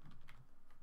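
A computer keyboard is typed on quietly, entering a short command in a Linux terminal, giving a quick run of soft, evenly spaced keystrokes close by with no talking.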